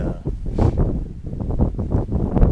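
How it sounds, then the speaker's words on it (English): Wind gusting across open ground at Cross J Ranch during a deer hunt, a steady rough rumble that rises and falls in short surges, close to the microphone, with no voices. "it's gotten a little windy, so that may slow them down"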